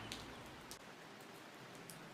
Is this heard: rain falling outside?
yes